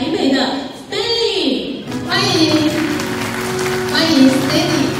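Audience at a Taipei-style sharing event in Tainan applauding to welcome a speaker, a brief wash of clapping mixed with an amplified voice and background talk over a continuous hall ambience.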